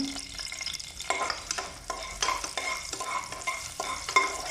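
Minced garlic sizzles in a little oil for chicken tinola, with steady frying crackle and repeated scraping stirs from a utensil against the pan, close and moderately loud, no talking.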